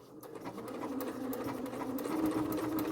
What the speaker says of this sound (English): now I'll finish up sewing